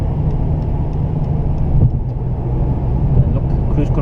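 A diesel BMW E60 5 Series, 177 hp, accelerates on a road at night, its engine a steady, loud drone heard from inside the cabin.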